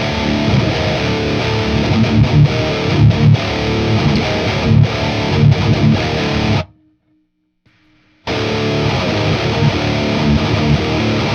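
Electric guitar played through a Merciless Drive high-gain distortion pedal, a loud, saturated chainsaw-like roar of chugging riffs that cuts out completely for about a second and a half before the riffing returns.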